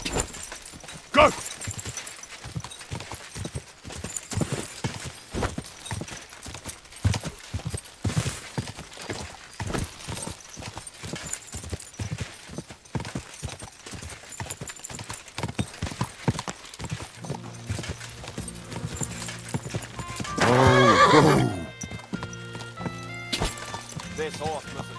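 Video game horse hooves clip-clop in a steady rhythm throughout, with speech over them, a whinny, and a brief crash near the end.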